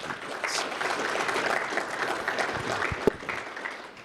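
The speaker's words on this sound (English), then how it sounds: "Let's give him a round of applause." An audience at a border security forum applauds for a speaker, a loud, dense and sustained round of clapping with one sharp knock late in the burst.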